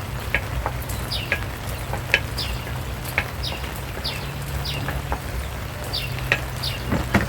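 Rice sizzling in a frying pan while being stirred, a steady close crackle with light scraping strokes at irregular intervals over a low hum.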